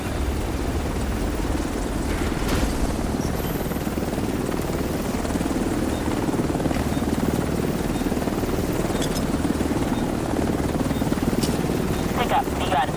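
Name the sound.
helicopter arriving at extraction in video game The Division 2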